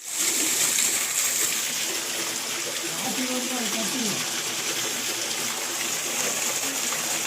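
Water gushes from the outlet of a newly installed BLDC solar pump, a loud, steady splashing rush heard up close, with faint voices in the background.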